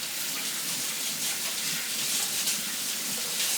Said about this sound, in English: just want to wash my hands real quick